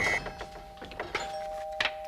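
A doorbell gives a bright electronic ding-dong chime at the start and sounds again near the end, with mechanical clicks and a steady tone between in an indoor room.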